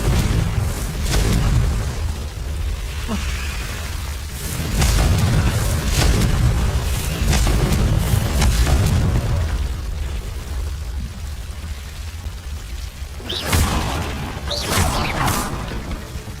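Confringo fire-spell blasts in Hogwarts Legacy, repeated booming explosions and whooshing impacts over a dense rumbling bed, loud and close, with several sharp cracking bursts clustered together and no talking.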